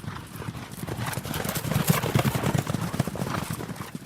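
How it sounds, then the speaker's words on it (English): Hooves of Roman cavalry horses charging down a steep hill pound in a rapid, dense clatter, and a horse whinnies partway through. "The thunder of so many horses' hooves hitting the ground must have been deafening as they neared."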